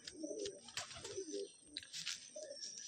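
Madrasi pigeons in a loft make soft, low, repeated cooing calls, close by and fairly faint, with some brighter background chirps scattered through.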